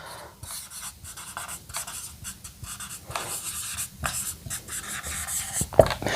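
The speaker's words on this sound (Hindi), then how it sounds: "नीचे लिख देता हूं इसको" Marker pen writing on a board during a chemistry lesson on carbon allotropes, a steady run of short scratchy strokes with brief pauses between words, close and moderately loud, no talking.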